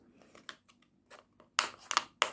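Sharp scissors snip through a thin plastic cup to cut a ring, giving a few soft crunches and then three loud, crisp cuts near the end, close and with no other sound behind them.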